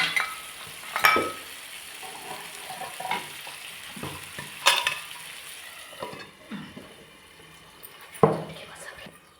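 Prawns cook in a covered pan with a soft, steady sizzle, broken by a few sharp clinks and stirring knocks at irregular moments, fairly close and moderately quiet.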